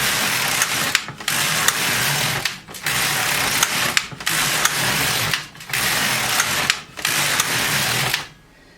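An LK150 knitting machine carriage is pushed back and forth, knitting rows of waste yarn. Six loud, close mechanical passes with whirring, rattling and clicking are separated by brief pauses, then a final stop.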